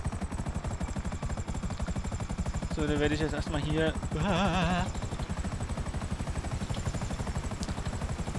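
Helicopter rotor chop from GTA V, a steady rapid thumping that runs the whole time while someone talks over it in German, with a brief burst of game clatter midway.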